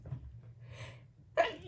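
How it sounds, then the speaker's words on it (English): One person sneezes, with a short breathy intake followed by a sudden sharp burst near the end, close and fairly quiet. "Excuse me, I'm going to sneeze."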